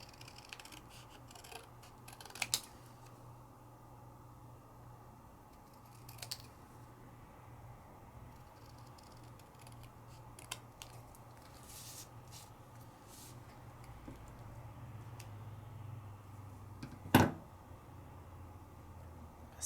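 Scissors trim around a foiled paper aperture frame in a quiet room, giving soft scattered snips and small paper rustles, with one sharper close cut near the end and a faint low hum underneath.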